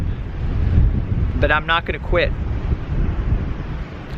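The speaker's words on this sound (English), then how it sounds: "the wind is definitely picking up" Strong wind blows across a rocky coast at Pacific Grove, California, roaring steadily and buffeting the microphone as someone speaks briefly in the middle.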